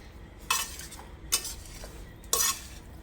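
Gram flour with chili powder, salt, turmeric, coriander-cumin and garam masala being stirred in a pan, three distinct scraping strokes of a spoon against the metal with quieter gaps between, close and clear with no talking.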